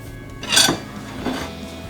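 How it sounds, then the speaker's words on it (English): A grilled cheese sandwich set down onto a plate, one scraping slide and a light clatter followed by a softer second scrape, close up, with no voices. "Put that onto the plate."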